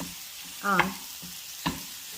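Sausage fries in a pan while a wooden spoon stirs it, a low steady sizzle broken by two distinct scraping strokes.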